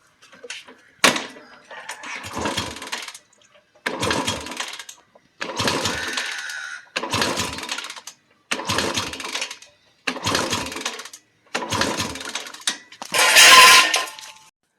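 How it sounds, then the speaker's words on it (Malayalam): Kick-starter on a Royal Enfield Bullet 350 Classic is pumped repeatedly during an engine oil change, about eight separate mechanical strokes in a regular rhythm, each a clacking ratchety sweep, close and clear with no talk. "മുകളിൽ വന്നിട്ട് കിക്കർ ഒരു 10 പ്രാവശ്യം അടിച്ചു കൊടുക്കണം"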